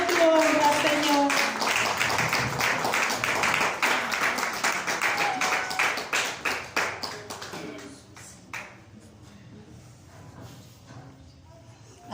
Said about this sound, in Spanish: a ti te ofrendamos este aplauso, Señor, para tu gloria y tu honra